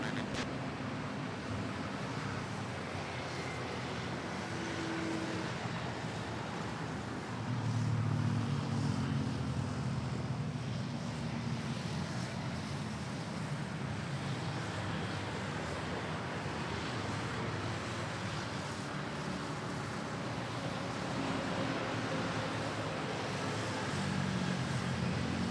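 An airliner taking off from runway 31 at Manila Airport, a low, distant, steady engine rumble and roar with wind-like noise, swelling slightly partway through and never sharply defined.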